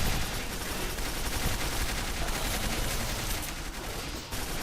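A turret in the video game Quake 4 lays down a dense, unbroken stream of gunfire, loud and close, sustained for several seconds.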